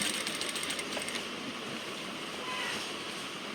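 A sewing machine stitching a shirt collar runs steadily, a continuous close whirring drone with no breaks and no talking.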